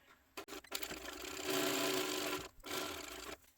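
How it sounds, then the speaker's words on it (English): A sewing machine runs in a steady whirring burst while back stitching a seam on a sling crossbody bag, stopping briefly, then starting again for a second, shorter run, close and moderately loud. "I am gonna back stitch"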